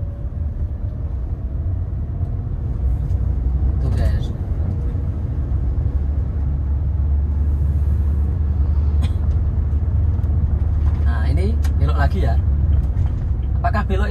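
Car pulling away in second gear, clutch released with a touch of throttle: a steady low engine rumble runs close throughout, with faint voices in the background.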